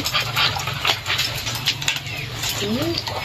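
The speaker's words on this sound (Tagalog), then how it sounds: "Ay, yung mga aso, nagsisitahulan na, nagsisilapitan na." Several dogs bark and yelp at a rural home in the Philippines, sharp repeated calls coming close together, with a whining cry near the end, over clattering background noise.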